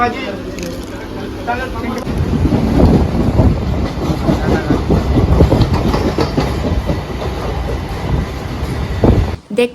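A crowded local train rumbling along toward Ranaghat Junction with rhythmic clickety-clack from the wheels and rushing wind noise, loud and continuous, with faint voices underneath.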